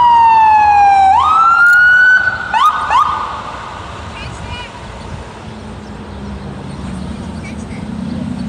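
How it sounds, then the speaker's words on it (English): A loud ambulance siren wails nearby, sweeping up and down a few times before cutting off and leaving road rumble behind; speech is faintly present. "That's the ambulance coming"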